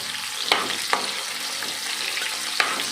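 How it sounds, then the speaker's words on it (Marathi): Okra frying and being stirred in a pan for dahi bhindi in a Goan home kitchen, a steady close sizzle broken by a few sharp scrapes of the spatula, with no talking. "ही भेंडी भाजली गेली"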